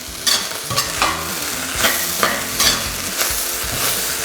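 Green onions being stirred into egg fried rice in a hot pan, a loud close sizzle with repeated scraping strokes of the spatula every half second or so, with no voices.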